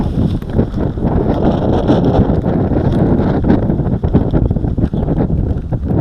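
Strong wind gusts steadily across an outdoor microphone in Walvis Bay, a loud, continuous roaring rush with buffeting bursts and no voices over it.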